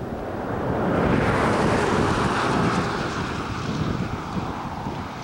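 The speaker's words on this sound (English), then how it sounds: "Windy." Steady wind gusting across an open mountain lake, a broad continuous roar that swells and eases slightly, with surf-like rushing water and microphone buffeting, no voices.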